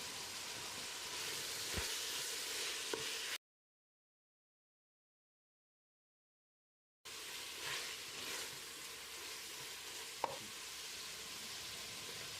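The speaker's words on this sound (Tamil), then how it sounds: "1 கைப்பிடி அளவுக்கு புதினா இலை, அதில் பாதி அளவுக்கு மல்லி இலையும் சேர்த்து வதக்கிடலாம்" Mint and coriander leaves sautéing in a pan for Ambur mutton biryani give a soft, steady sizzle with occasional stirring scrapes, broken by a stretch of silence midway.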